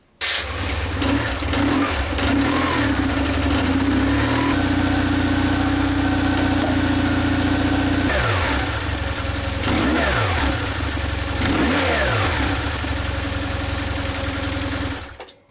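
BMW R1150GS motorcycle on a project bike build starting up and running, a sharp catch followed by a loud steady rumble with a couple of throttle blips, close and alone, cutting off at the end.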